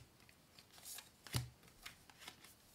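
Shuffled oracle cards being leafed through by hand, soft quiet flicks and rustles with one sharper slap, close and faint, with no talking.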